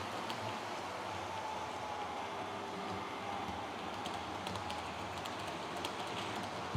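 A steady, faint rolling rumble with light gritty clicks runs throughout as a model train circles a newly ballasted track nearby.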